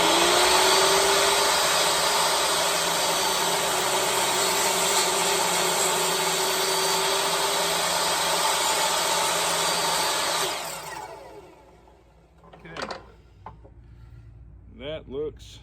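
Rough cut lumber slab run through a machine again, a loud, steady whirring roar of cutting for about ten seconds that then winds down and stops, followed by someone speaking in the quiet.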